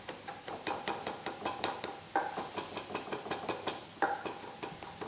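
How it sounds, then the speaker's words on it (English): A knife chops rosemary and potatoes on a board in quick, steady, close strokes, each a crisp knock. The rhythm runs unbroken for several seconds with no talking. "let me give these a good chop"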